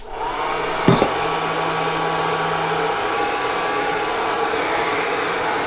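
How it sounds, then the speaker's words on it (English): A hair dryer switches on with a click and blows with a steady, loud whooshing hum close by, running continuously, drying dyed CDC feathers for fly tying. "get the hair dryer"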